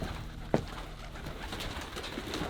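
Pigeons coo near the Salton Sea, a soft, low murmuring coo repeated a few times at close range, with one brief sharp knock partway through and no talking.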